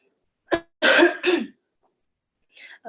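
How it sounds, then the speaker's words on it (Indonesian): A single sharp cough followed by a couple of raspy throat-clearing coughs, close and fairly loud, then a soft breathy sound after a pause. "Sebelumnya saya mohon maaf karena saya batuk."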